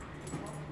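A neighborhood dog makes a brief, soft whimpering yip at a distance, faint against a quiet background hum.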